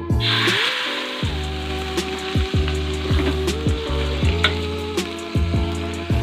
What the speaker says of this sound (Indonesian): Saya tambahkan sedikit minyak ya, perkira 3 sendok makan, sedikit saja supaya bumbunya harum ya, dioseng-oseng bumbu tadi.